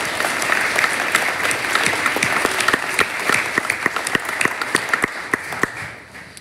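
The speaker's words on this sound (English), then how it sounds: "I think we owe you a big round of applause." A church congregation at an Easter Sunday worship service at St George Episcopal Church bursts into steady applause, dense and fairly loud with a few sharper individual claps standing out, then tapering off at the close.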